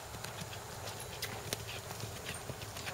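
A horse loping with a steady clip-clop of hooves, close and fairly quiet, the beats coming in an even rolling rhythm over a low background rumble.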